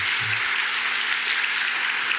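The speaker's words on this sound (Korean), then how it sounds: "마음 담고 우리 힘차게 박수 한번 하겠습니다." Church congregation clapping together at a Sunday worship service, a steady dense wash of applause filling the room with no voices over it.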